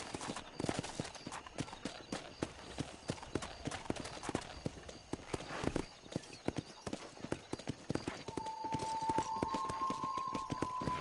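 Horse hooves gallop steadily in Red Dead Redemption, a quick, continuous clip-clop rhythm running the whole way through, with a thin sustained tone joining near the end.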